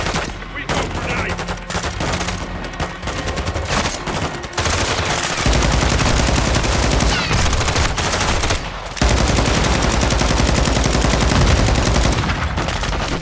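Modern Warfare 2 video game combat roars with dense, loud automatic gunfire and rapid bursts of shots, heavy and continuous throughout with brief changes in intensity.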